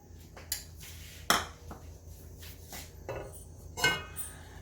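A utensil stirs vegetable biryani and ghee in a pot, giving sparse metallic clinks and scrapes against the pot's side, several sharp taps over a quiet background.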